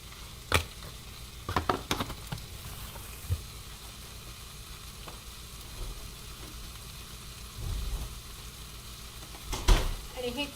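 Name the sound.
gram flour roasting in oil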